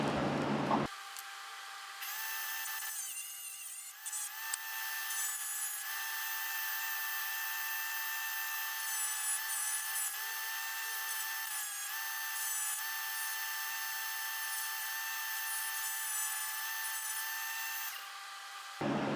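A high-speed rotary power tool cuts through a tube with a steady, piercing whine that holds for about fifteen seconds, close and loud, starting and stopping abruptly.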